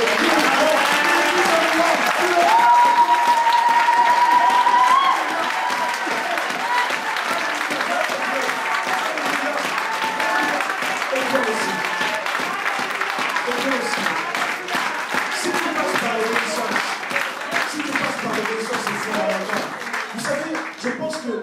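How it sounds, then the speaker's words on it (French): A church congregation applauds steadily for a long stretch, a dense, even patter of clapping hands with no speech. "Applaudissons notre Dieu."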